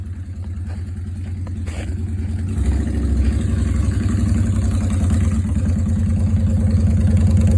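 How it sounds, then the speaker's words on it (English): A motorcycle engine, likely the friend's bike arriving, idles steadily nearby with a low throbbing rumble that grows louder and fuller after the first few seconds, with no voices. "I can hear my friend Reed pulling up."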